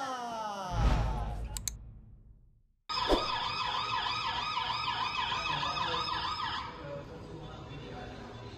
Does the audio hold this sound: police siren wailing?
yes